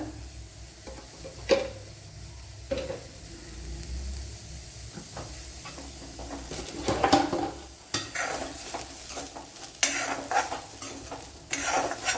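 About a teaspoon of coconut oil hits a pan and is stirred, with scattered metal spoon clinks and scrapes, then a brighter, louder sizzle building in the second half, and no talk.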